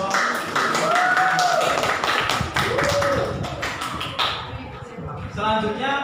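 Classroom students clap for a group in a dense, steady run of sharp hand claps lasting several seconds, with some voices talking over it.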